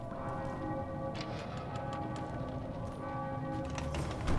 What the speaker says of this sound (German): Ich höre die Glocken.